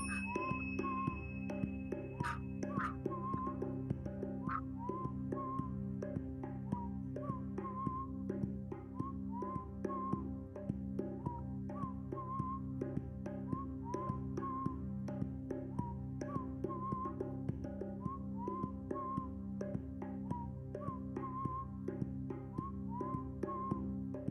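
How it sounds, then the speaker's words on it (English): Steady, soft whistling carries on without a break over a low sustained drone, with a continuous rhythm of short pitched notes. "And we're whistling."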